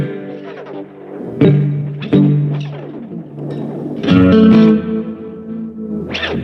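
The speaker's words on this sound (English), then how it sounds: "I'm turning the tape head wear knob. It's supposed to sound like the heads are warbly." Guitar played through a Strymon Volante with the tape head wear setting raised, giving warbly, wavering tones and echo repeats; several struck notes and chords ring out with lingering, smeared decay, loud and close, with no talking.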